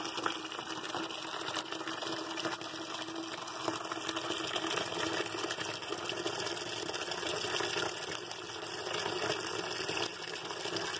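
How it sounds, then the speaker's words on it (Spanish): Water pours steadily into a container with a constant gushing hiss that keeps going without a break. "Voy a llenar todo eso de agua."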